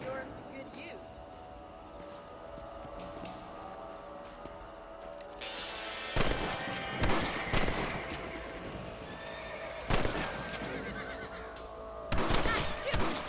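Sharp gunshots ring out in quick irregular bursts during a rabbit hunt in Red Dead Redemption. They come after a stretch of horse whinnying and ambient game noise, and voices talk throughout.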